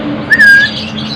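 A five-colored pitta chick gives a single thin, clear chirp, close and brief, over a low background hum.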